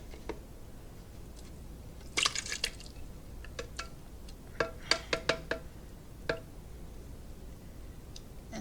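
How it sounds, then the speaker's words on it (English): Contents of a can of salsa ingredients are poured into a bowl, giving faint wet drips and a few soft splashes in irregular bursts against a quiet kitchen background. "So we're going to pour 1 can in right away."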